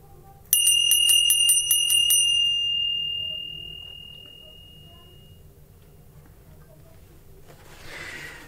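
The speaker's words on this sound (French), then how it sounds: "on commence, on sonne la cloche." A small bell opening a Yule sabbat ritual rings in a quick run of about eight bright strikes, then one tone lingers and fades into a quiet room, with a faint rustle at the end.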